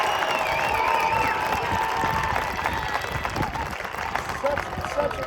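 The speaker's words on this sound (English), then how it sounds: "So a round of applause for" Crowd applause and cheering at a band's family and friends performance, continuous clapping with whoops and whistles, steady and fairly full before easing slightly toward the end.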